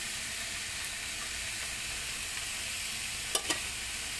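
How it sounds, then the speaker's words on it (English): Cabbage, mushrooms and frozen peas sauté in a pan for vegetable fried rice, giving a steady, close sizzle with two short clatters of stirring near the end. "And then just saute all together until it gets cooked."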